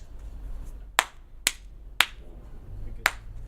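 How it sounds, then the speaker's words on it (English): Four sharp, isolated hand claps spaced unevenly over a few seconds, close and distinct against a quiet room background. "If you could just clap for us."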